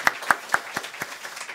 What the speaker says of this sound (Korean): 이 시간 우리 살아계신 하나님께 영광의 박수 올리겠습니다